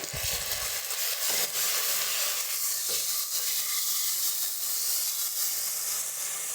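Onions and ginger garlic paste sizzle and hiss steadily in a hot pan for tomato rice. A loud, continuous frying crackle fills the whole stretch with no talking.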